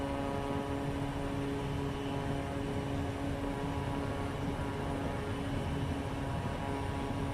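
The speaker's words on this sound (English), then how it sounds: "Instruments in the green, take off, roll out." A propeller airplane rolls down the runway for takeoff in Microsoft Flight Simulator at Merrill Field in Anchorage, Alaska, its engine a steady droning hum with a constant tonal buzz, unbroken throughout and free of talk.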